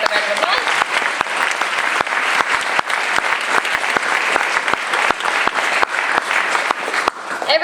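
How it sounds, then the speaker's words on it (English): An audience applauds a harp ensemble performance in a dense, steady burst of clapping, loud and close with sharp individual claps throughout, fading slightly at the very end. "We can give them all another round of applause."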